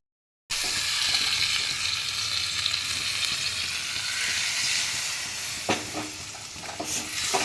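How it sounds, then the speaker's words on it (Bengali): Warm water poured onto potatoes frying in a pan, setting off a loud, close, continuous sizzle and hiss of steam, with a few sharp stirring clatters near the end. "এবার আমি সামান্য এক ফোঁটা জল দেব উষ্ণ গরম জল"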